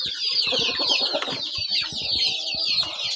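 Lohmann Light laying hens clucking in a barn, several birds close by with overlapping, continuous cackles and short clucks, busy and lively throughout.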